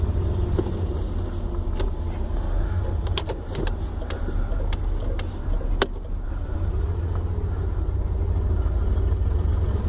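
Steady low rumble of a car being driven, engine and road noise filling the cabin, with a few brief clicks and thumps from inside; no talk.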